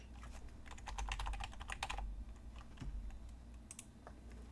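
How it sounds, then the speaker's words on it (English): A new computer keyboard being typed on in bursts, a quick flurry of crisp clicky keystrokes at first, then sparser taps and pauses over a low background hum, no talking. "I like the sound of my new keyboard."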